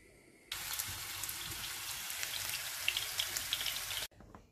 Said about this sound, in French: Et là, je vais les frire dans de l'huile chaude.